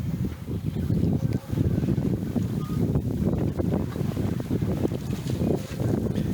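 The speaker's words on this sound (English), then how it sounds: "we're sailing along here, and we've got a apparent wind of 12 knots" Sailboat moving along at about five knots in a 12-knot apparent wind, a steady close rush of wind buffeting and water noise without any talking.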